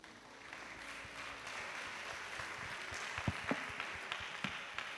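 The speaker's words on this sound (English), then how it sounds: "A round of applause for him, please." A conference audience applauds at an artificial intelligence event, a steady broadband clapping wash lasting the whole stretch, fairly distant and moderate in level, with a few sharper individual claps standing out near the end.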